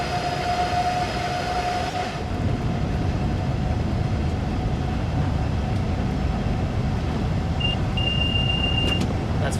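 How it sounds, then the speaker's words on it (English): A train running in the video game Train Sim World 3 gives a steady, loud rumble of wheels and motor throughout, with a brief tone early on and a short electronic beep near the end. "That's a train simulator."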